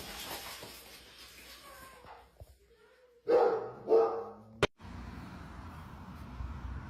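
A guard dog gives a couple of loud, close barks in front of Halloween decorations, short sharp bursts amid quieter rustling and low background noise.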